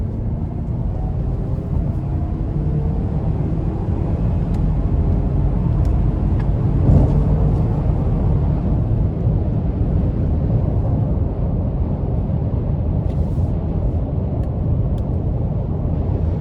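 A 2024 Ford Edge ST Line accelerating in sport mode sends up a sustained broad roar that swells slightly midway, with road and engine noise filling the cabin and nobody speaking.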